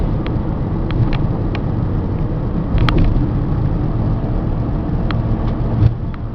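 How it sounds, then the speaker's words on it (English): Ford F SuperDuty bucket truck cruising at 55 mph: a steady low engine and road drone from inside the cab, with occasional light rattles and clicks over the rumble. "it goes down the road like a SuperDuty should"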